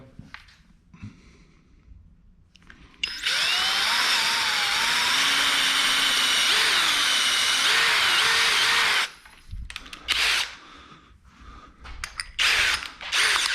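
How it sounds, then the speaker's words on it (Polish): A power drill with a thin bit whines at high speed for several seconds, biting into a wall with a grinding pitch that wavers, then stops; brief tool noises follow. "najpierw cieńszym wiertłem"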